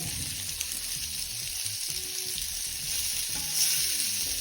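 Onions and peppers sizzle steadily in hot oil in a pan while cooking a chilli, a continuous bright frying hiss with a few soft utensil knocks underneath.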